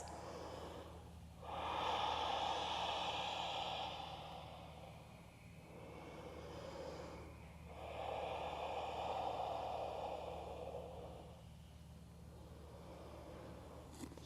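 Slow, deep breaths held in a forward fold during a hatha yoga class, several long airy inhales and exhales close to the microphone, steady and unhurried with no talk.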